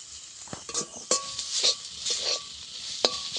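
Spices sizzle softly in a pan while a utensil stirs and scrapes, with occasional sharp clinks against the metal.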